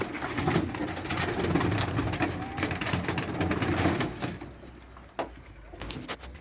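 Domestic pigeons coo close by in a loft, with continuous layered cooing and bird calls that fade slightly toward the end.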